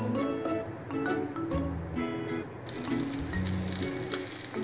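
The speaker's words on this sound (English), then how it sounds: "we have our salsette maltia getting ready to be grilled" Maltese sausage (salsette maltia) spits and sizzles steadily on a grill, close and loud, with faint clinks and a brighter burst of frying partway through.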